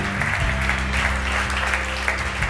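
An audience at a French ethics prize ceremony claps for the presenters, a steady loud round of applause with a low hum of the hall underneath and no speech over it.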